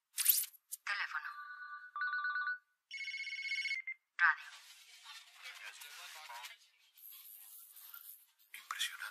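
Electronic telephone ringing in a sci-fi action film scene: several short tonal bursts in quick succession, mixed with other electronic chirps and crackling static.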